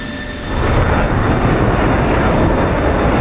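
Low pass of a fixed-wing aircraft over a runway in the DCS flight simulator, starting as quiet hum, then swelling at half a second into a loud, steady broadband engine roar held close for the rest of the clip.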